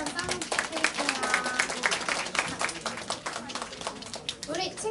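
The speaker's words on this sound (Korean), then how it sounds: "박수 한번 부탁드릴게요." Dense audience clapping at a small gathering held steady for several seconds, with people talking and calling out over the applause.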